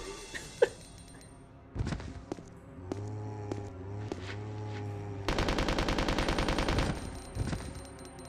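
Dual-wielded submachine guns firing in a Resident Evil video game: a few scattered single shots and thuds, then a sustained rapid burst of automatic fire lasting about two seconds, followed by a couple more shots.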